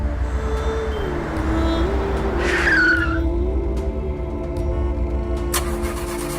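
A car's tires give one short, sharp skidding squeal over a continuous low engine drone, followed by a few faint clicks.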